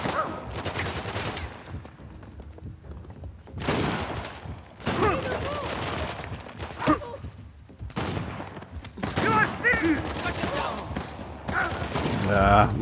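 Gunfire from a sniper firing in the Uncharted: The Lost Legacy video game, several loud cracking bursts separated by pauses, mixed with game sounds.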